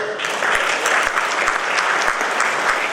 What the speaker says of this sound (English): A round of applause for us all.